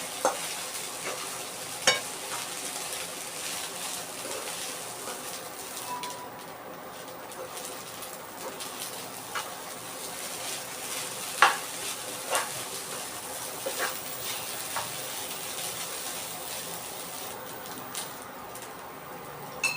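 Sabudana khichdi is stirred in a pan over a low, steady frying hiss, with occasional spoon scrapes and clinks against the metal, close and without talk, while a pigeon coos faintly in the background.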